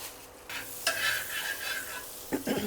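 Butter with a little oil sizzling in a pan as pav bread is warmed, a steady close frying hiss with stirring and a couple of sharper spatula scrapes near the end.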